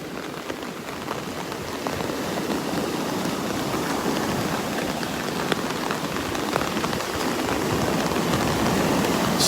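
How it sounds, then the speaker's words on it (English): Steady rain from the tail end of Tropical Storm Sally falls along Vanderbilt Beach in North Naples, Florida, a continuous hiss of drops on surfaces that grows slightly heavier, with a few sharper close drips. "Just a band of rain, and it's just hitting all along the Southwest Florida coast right now."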